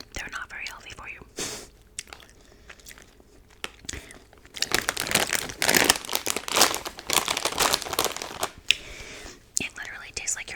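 Crunchy sweet cinnamon puff cereal is chewed up close, with crackling crunches and crinkles building into dense bursts of loud chewing, alongside soft whispering between bites.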